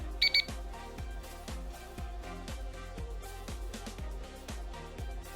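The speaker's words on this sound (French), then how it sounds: "On attend le bip." An ABDOFORTE abdominal exercise device gives a brief double electronic beep near the start, sharp and clear over steady rhythmic background music.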